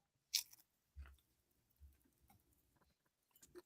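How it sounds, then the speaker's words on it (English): Crunchy food chewed close to the microphone, a sharp bite followed by a few quieter crunching chews, isolated with no talk. "I'll just give you one little ASMR just so you can get a feel for the crunch."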